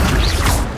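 Accio summoning spell cast in the video game Hogwarts Legacy, a short, heavy whooshing crash with a low thud, under a second long and fading at the end.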